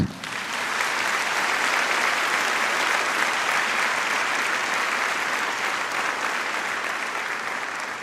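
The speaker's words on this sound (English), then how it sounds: "Would the audience join me in a round of applause for our coders?" An audience at a medical school white coat ceremony gives a long, even round of applause for the coders, dense clapping that holds steady for about eight seconds.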